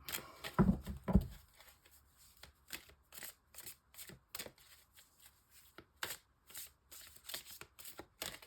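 Tarot cards being shuffled by hand, a few louder riffles near the start followed by a steady run of soft, rhythmic slaps and flicks, close and alone with no talk.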